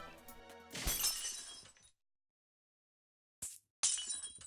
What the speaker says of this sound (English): I took the pocket watch and smashed it upon the ground.